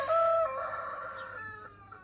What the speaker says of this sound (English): that's my Rhode Island red roosters.